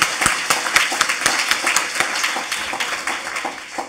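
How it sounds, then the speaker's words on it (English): A conference audience at a human rights and national security event at UCLA claps warmly for a speaker, with dense, close applause carrying a steady rhythmic beat that holds throughout. "So let's give her a hand of applause."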